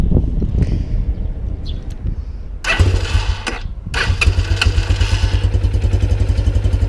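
A Lifan CitiR-200 motorcycle engine cranks in short clattering bursts, stalls briefly, then catches and settles into a steady, close, rhythmic idle.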